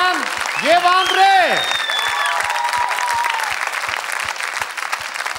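Loud audience applause fills the hall for the singers after a gala performance, steady dense clapping throughout, with a sustained sung or cheering tone rising over the start before the clapping carries on alone.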